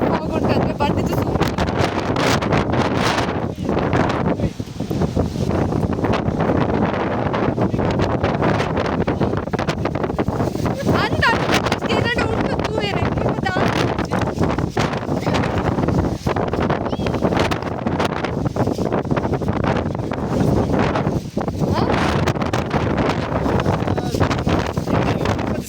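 Strong monsoon wind on a foggy Kodachadri mountain top roars and buffets the microphone without letup, a dense, loud, continuous rush with faint voices buried underneath.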